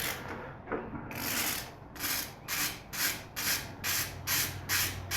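A hand ratchet loosens the fuel tank bolts on a 2007 Suzuki Bandit 1250 motorcycle, with rhythmic rasping clicks in regular back-and-forth strokes, close and fairly quiet.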